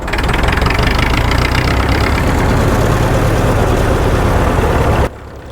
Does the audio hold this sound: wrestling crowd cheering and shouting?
no